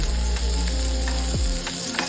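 Onions frying in a pan for onion-coconut chutney, a loud, dense, continuous close sizzle with faint stirring clicks and no speech.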